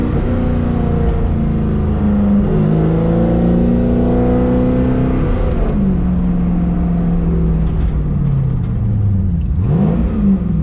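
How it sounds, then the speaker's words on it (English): A 1970 Chevelle V8 drives in second gear with a rev-match system fitted, a loud steady engine drone rising and falling as the revs are blipped up during a downshift, heard close from inside the car. "let's see if it blips up, bring those RPMs up a little bit"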